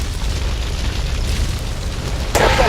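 A character catches fire in Grand Theft Auto III, a constant roaring, crackling burn that swells into a sudden loud whoosh of flame near the end.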